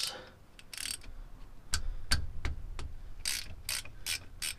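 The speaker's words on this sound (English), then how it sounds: "we're going to go ahead and take a 14 millimeter and take off these two diff cover bolts" Bolts come off a Nissan 350Z differential cover under a 14 mm ratchet, giving close, sharp clicking in short irregular bursts separated by brief pauses, with no voices.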